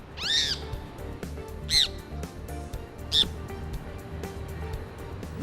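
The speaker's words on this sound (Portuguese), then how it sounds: "um passarinho estava batendo na janela, a gente conseguiu pegar ele" Small wild bird, caught after striking a window, squawks in three loud harsh bursts spaced a second or so apart, up close indoors, with quiet room noise between calls.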